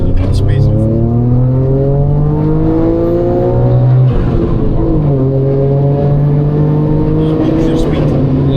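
A modified Suzuki Cappuccino kei car accelerates hard through rising engine pitch, a brief drop at a gear change, then climbs again; loud, close, with people talking over it.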